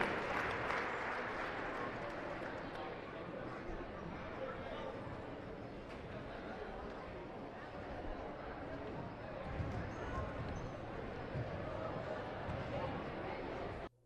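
Crowd at a boys basketball game, Joplin vs Republic, applauding the 7th and 8th grade boys basketball teams: steady, sustained clapping from the stands lasting the whole stretch, fairly distant and even.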